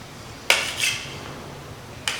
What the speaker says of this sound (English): cut the square into two, and then chop this